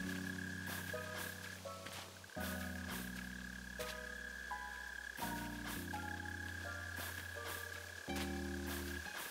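Mole crickets in the Animal Crossing video game drone with a low, continuous croaking buzz, steady throughout under chiming tonal game music.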